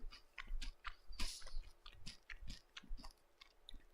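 A streamer chews food close to the microphone: soft, wet, rhythmic chewing and small crunchy bites repeating at a steady pace, quiet and intimate, with no talking.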